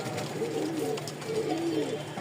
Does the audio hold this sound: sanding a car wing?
no